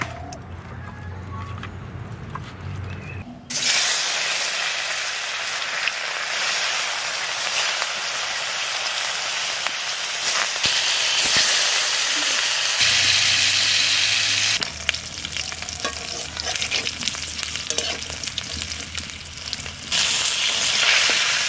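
Rohu fish frying in mustard oil gives a loud, steady sizzle and crackle that runs nearly the whole time, broad and close, after a brief quieter opening.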